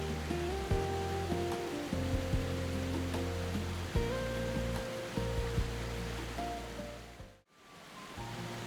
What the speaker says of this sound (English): The sound of falling water drowns out everything else.